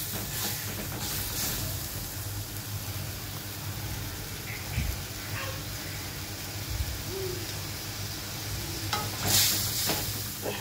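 Masala for a prawn, tomato and sour yogurt bhuna is stirred and sizzles steadily in the pan, with a continuous frying hiss and occasional scraping stirs throughout, and no talking.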